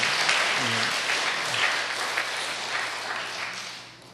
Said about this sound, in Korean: 박수 한번 더 크게 쳐주세요